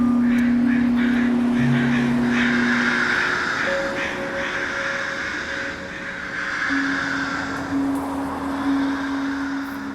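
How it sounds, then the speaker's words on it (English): Roughly a dozen crows perched on power lines above a busy street caw in overlapping, harsh bursts, moderately near, over a steady wash of traffic with occasional horn-like tones. "what I have is a dozen angry crows, sitting on the power lines above me, conducting a cacophonous aggregation"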